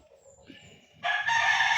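A rooster crows nearby, a short loud call rising in the final second after a quiet stretch of faint background clucking.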